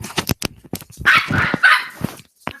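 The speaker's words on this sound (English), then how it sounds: "This dog sounds like a fucking terrorizer." Dog barking in a room, a quick run of sharp, loud barks close by, with a rougher growly stretch in the middle and a few final barks.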